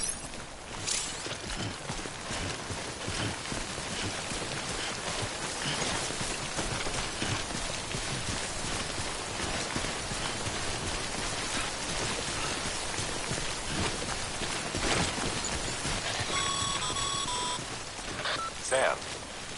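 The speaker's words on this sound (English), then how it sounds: "Don't stay out in the rain any longer than you have to." Heavy, steady timefall rain from the video game Death Stranding pours as a dense, continuous hiss throughout, with faint game tones near the end.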